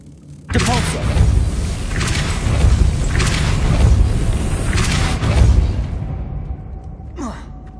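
A Depulso spell cast in the Hogwarts video game, a sudden heavy whooshing boom followed by several seconds of rumbling force and thuds before fading to a faint echoing tail.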